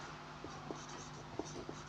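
Chalk or marker writing on a board in a reasoning class: a few soft, quick scratching strokes and taps, close and fairly quiet, alone without talk.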